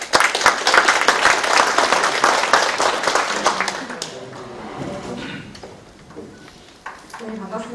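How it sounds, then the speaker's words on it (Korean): Audience applause welcoming a presenter at a rice-cooker business agreement ceremony, loud dense clapping for about four seconds that then thins out and fades, leaving a few scattered claps and low room noise. "힘찬 박수로 환영해 주시기 바랍니다"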